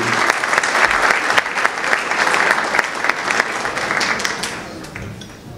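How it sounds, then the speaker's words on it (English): A hall audience at a London Turkish police association awards and solidarity night gives a dense, steady round of applause that fills the whole stretch and tapers slightly at the end. "Please round of applause for Esengül, please."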